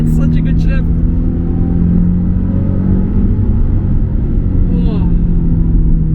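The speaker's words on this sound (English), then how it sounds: "I'm trying not to sit on the red line all the time, but it's difficult not to downshift." A Nissan 350Z HR engine pulling hard in gear with a loud, steady rumble and rising rev on downshifts, heard from inside the car over road and wind noise.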